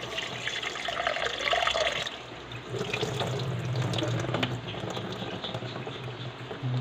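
Tap water runs steadily into a sink while vegetables are washed, a continuous close splashing rush that briefly dips and shifts as the food is moved under the stream.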